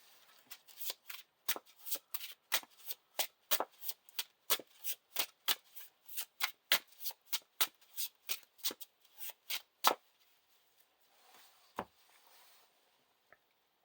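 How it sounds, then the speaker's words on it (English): Playing cards from a Lord of the Rings living card game deck being shuffled, a long run of quick, crisp riffling bursts in steady rhythm, close and alone, then stopping with a few faint handling sounds. "He's shuffled back into the deck."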